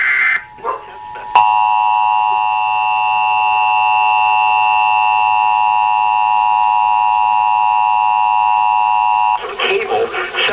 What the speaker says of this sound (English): the attention signal you just heard would have been followed by emergency information, news, or instruction